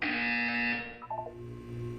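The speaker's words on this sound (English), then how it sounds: "You will hear a buzzer." A loud harsh electronic buzzer sounds in the Portal 2 video game, a sustained grating tone that cuts off after under a second, followed by a few short beeps and a low lingering hum.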